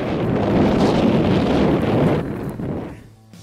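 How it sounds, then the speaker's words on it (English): Strong wind gusts through a dusty semi-desert region, a loud, steady roar buffeting the microphone that eases off toward the end. "We live in a semi-desert, that is why it's extremely windy and dusty here."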